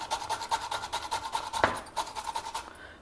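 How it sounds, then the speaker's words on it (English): Fresh radish rubbed over a grater in quick, even rasping strokes, close and continuous with a brief louder scrape midway, with no talk. "Next, grate the radish."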